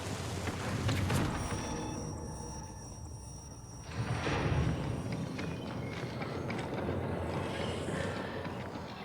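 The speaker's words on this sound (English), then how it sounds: "Footsteps tell players everything." Footsteps in the shooter video game Marathon patter quickly and steadily across a noisy, busy game soundscape, clearly audible throughout.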